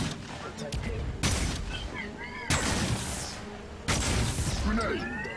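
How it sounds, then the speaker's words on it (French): A grenade explodes in the video game Guardians of Orion amid ongoing gunfire, with three heavy booming blasts landing about a second apart over a dense, loud battle din. "Grenade."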